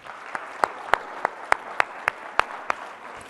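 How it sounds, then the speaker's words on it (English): Audience applause in a university lecture hall during a nutrition class, a soft steady patter of many hands with a few sharper, louder claps standing out at a regular pace, no talking over it. "Can we get another round of applause?"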